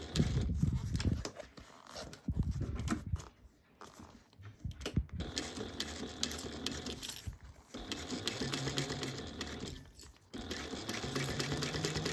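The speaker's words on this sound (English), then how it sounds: "Once you finish sewing on the binding" A sewing machine stitches binding onto a small fabric bag, running in close, steady bursts with short pauses between runs.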